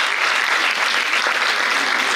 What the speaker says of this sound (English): I think we deserve an applause for that.